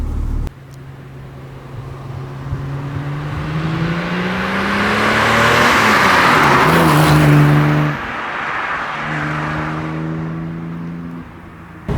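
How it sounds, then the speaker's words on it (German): A 1970 Mercedes 280 SL Pagode in original condition drives out of town onto a country road, its engine loud and close as it accelerates through rising gears with steady road noise, no talk. "Wir werden jetzt gleich mal hier ein bisschen aus der Stadt Rosenheim rausfahren auf die Landstraße."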